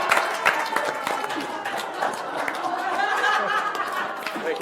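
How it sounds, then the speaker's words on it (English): A round of applause at a Board of Supervisors meeting honours a long-serving member, clapping mixed with crowd chatter and some laughter. "If you all join me in a warm round of applause."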